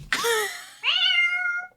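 A person imitates a cat, giving two drawn-out meows, the first sharp and falling, the second rising and then trailing off, loud and close with no other sounds.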